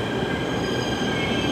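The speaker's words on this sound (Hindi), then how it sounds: "मेट्रो आ चुकी है हमारी।" A Delhi Metro train pulls into the station with a steady, loud rumble of wheels on rail and faint high squeal, continuous throughout with no voices.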